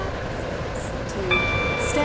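A metro train stands at a station in the Roblox game Stepford County Railway, a steady rumble with a rising whine and tonal hum near the end, heard under a recorded platform announcement.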